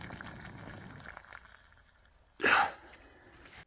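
Water coming to the boil for coffee at a cold camp, a low bubbling rumble close by, then a sudden brief burst of hissing steam near the end.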